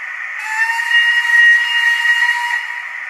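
A locomotive whistle sound effect on a model railway gives one sustained steam-whistle blast with a breathy hiss, rising in and fading out over about two seconds, alone and fairly loud.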